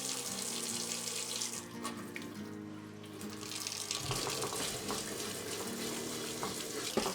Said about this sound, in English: And I'm going to get this rinsed off.